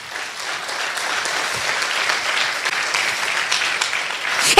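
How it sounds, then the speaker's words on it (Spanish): A church congregation gives a strong round of applause to the Lord, a dense, even wash of many hands clapping throughout at a steady level. "Dale un fuerte aplauso al Señor"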